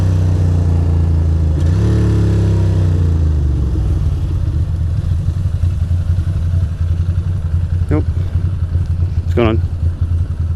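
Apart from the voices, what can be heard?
motorcycle passing on a Manhattan street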